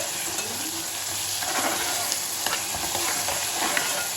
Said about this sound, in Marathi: कांदा प्रॉपर लाल होईपर्यंत व्यवस्थित असा परतून घ्यायचा आहे